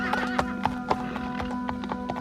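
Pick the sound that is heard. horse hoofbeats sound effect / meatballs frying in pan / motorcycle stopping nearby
horse hoofbeats sound effect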